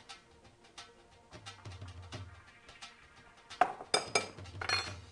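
Flour being mixed with other ingredients in a bowl for til Mysore pak, a run of soft scraping and clinking strokes that turn louder and sharper toward the end.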